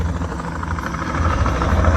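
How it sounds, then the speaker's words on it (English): A helicopter flying in over Dolphin Marina in Harpswell, Maine, a loud steady rotor and engine drone that swells slightly as it approaches, with no talking. "we seem to have helicopters coming in, I guess for a late lunch or early dinner."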